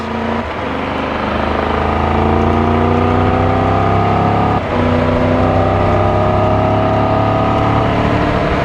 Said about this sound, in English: This bike has a real throaty sound when you give it the beans.